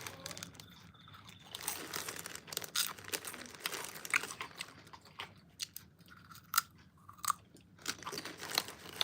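Someone chews and crunches popcorn close to the microphone, an irregular series of crisp bites and chewing sounds with occasional bag crinkles over a quiet background.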